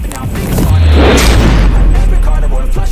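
A Steyr HS-50 .50 caliber sniper rifle firing at close range outdoors: one huge, deep boom that rolls on and fills the whole moment, very loud and near.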